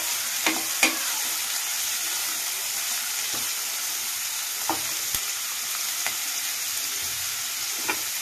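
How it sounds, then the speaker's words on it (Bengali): Onions frying to golden brown in a pan for a soybean malai curry, a steady close sizzle with occasional faint clicks of stirring, no voices. "পেঁয়াজটা দিয়ে তবে গোল্ডেন ব্রাউন করে নেব। পেঁয়াজটা লাল করতে থাকছে।"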